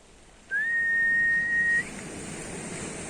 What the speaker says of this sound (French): Et ça, c'est le sifflement.